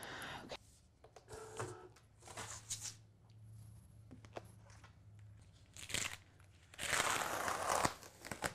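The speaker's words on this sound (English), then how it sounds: "We can go ahead and send our vinyl through the machine." A vinyl cutting machine cuts a vinyl stencil, giving a steady low motor whir broken by short scraping, sliding bursts, with a louder rush of movement near the end.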